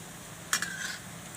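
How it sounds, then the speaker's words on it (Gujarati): Puffed rice (mamra) vadi fry in hot oil, a brief sizzling burst rising sharply and fading back to a low steady crackle within a second, close by. "આ રીતે આપણે બધાય તળી લઈશું."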